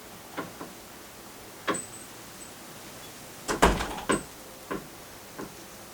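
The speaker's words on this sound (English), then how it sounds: "Please close the door." Several separate door knocks and thuds, with one louder bang near the middle as a door shuts, set against a quiet indoor background.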